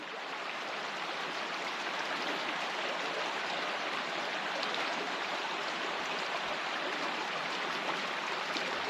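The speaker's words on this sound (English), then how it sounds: "Just listen to that water." Steady rushing of a flowing mountain stream on Vanderwhacker Mountain, constant and fairly close, with no voices or other sounds breaking through.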